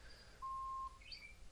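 A Ricoh Theta Z1 camera gives a single faint, steady electronic beep about half a second long, heard alone over low background hiss.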